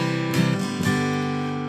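Strummed acoustic guitar chords from a song, ringing steadily with two strong strums and sustained harmonics, played alone without voice.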